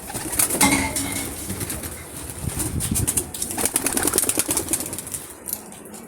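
A pigeon flaps its wings in short, loud bursts while being lifted by hand close up, with rustling and faint cooing between the flurries.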